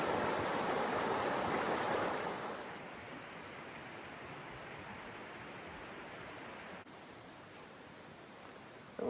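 A river flowing steadily, a continuous broad rushing wash of water that is louder at first and then settles into a softer, even murmur, with no voices.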